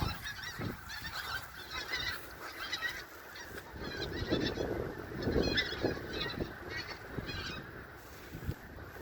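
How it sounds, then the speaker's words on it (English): A flock of Canada geese honks continuously, many overlapping calls at moderate distance forming a noisy, restless chorus. "They're the Canadian geese though."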